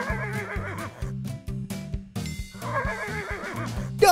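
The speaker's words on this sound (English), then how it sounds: "A horse." A horse neighs over a bouncy, steady music track, with the whinny rising out of the repeating beat and standing out clearly from it.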